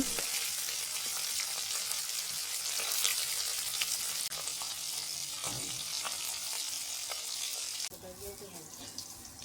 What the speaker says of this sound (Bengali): এপিট ওপিট করে 1 মিনিটের মতো সময় নিয়ে ভেজে নেব